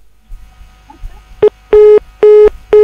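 After a few quiet clicks, four loud telephone keypad tones beep in a row, the first short and the rest held evenly.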